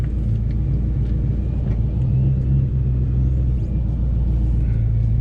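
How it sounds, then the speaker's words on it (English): A supercharged 2004 Ford Mustang cruising on the road produces a deep, steady engine rumble with low drone and road noise, heard from inside the car with no voices. "video of me driving the car."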